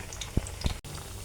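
Sweet carrot pitha frying in hot oil, a close, continuous bubbling sizzle with a couple of brief louder pops over a short moment.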